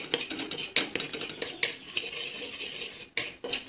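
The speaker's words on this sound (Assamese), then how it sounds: "এইখিনি ধুনীয়াকৈ ভাজি ল'ম।" A metal spoon scrapes and clinks against a pan while pulao ingredients are stirred and fried with sugar added for colour, producing a steady run of close scraping strokes with faint sizzle underneath.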